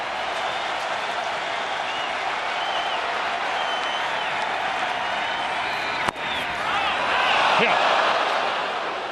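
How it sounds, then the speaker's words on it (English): Relentless crowd at a Phillies vs Marlins baseball game, a dense roar of cheering and clapping that holds steady, with a sharp thud partway through before the noise swells louder. "And this is a relentless crowd."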